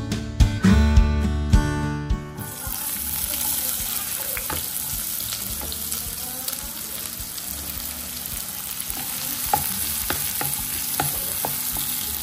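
Onions frying in olive oil in a pan, a steady sizzle with scraping stirs, preceded by a brief burst of loud clattering and running water at the start.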